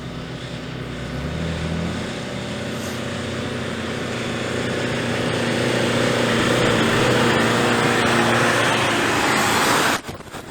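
A 4WD in low range third gear labours up the Big Red sand dune, its engine drone building steadily and staying loud and continuous before cutting off abruptly near the end.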